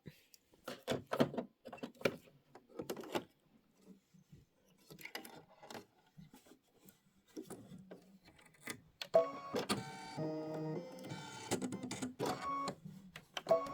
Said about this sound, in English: And now it's going to do the decorative stitching.